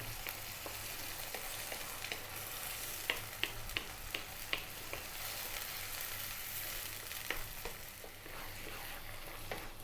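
Canned crushed tomato sauce simmers in a pan over medium heat, a faint steady bubbling hiss dotted with small pops and spits.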